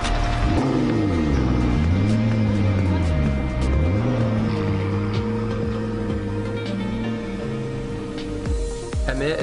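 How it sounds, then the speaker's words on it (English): A McLaren P1 pulls up at the Bulgari Hotel in London, its engine a loud, close rumble with rising and falling revving tones that settle into a steadier drone. "The LA Muscle McLaren P1 then arrived at the Bulgari Hotel"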